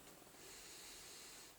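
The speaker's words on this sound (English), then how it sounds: "I'm going to have a quick sniff." A quick, close nasal sniff over a foamy glass of hoppy, fruity IPA: one soft, breathy hiss lasting about a second and a half, quiet and alone.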